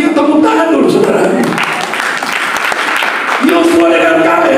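A church congregation at a fasting and prayer session claps together, a dense, fairly loud patter of many hands lasting a few seconds, while a voice speaks over the start and end of it.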